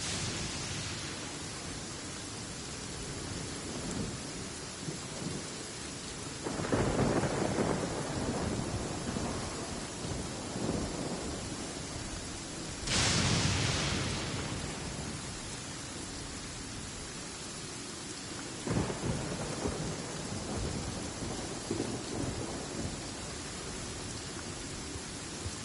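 Steady rain and rumbling thunder in a video game, a constant hiss with three louder swells of thunder spread across the scene, heard alone without talk.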